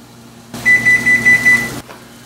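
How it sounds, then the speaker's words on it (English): A kitchen oven is switched on to preheat to 500 degrees Fahrenheit and gives five evenly spaced high beeps over a steady hum, close and clear, with no talk. "And now I'm going to start it, and we're going to preheat our oven."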